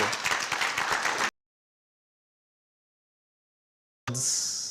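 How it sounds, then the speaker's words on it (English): A conference audience at an Authorized Economic Operator event breaks into loud applause. It stops abruptly into a few seconds of silence, then resumes briefly. "Let's give a round of applause for"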